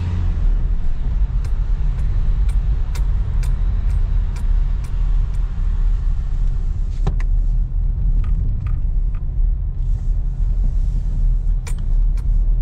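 Car climbing the ramps of a multi-storey airport car park at Palma, Mallorca, with a steady engine and road rumble echoing in the concrete structure and scattered sharp clicks and knocks over it.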